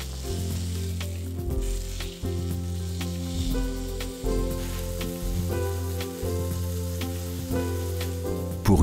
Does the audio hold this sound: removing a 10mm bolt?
no